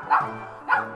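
Puppies barking loudly in a children's storybook scene, two quick close barks about half a second apart, with no talking.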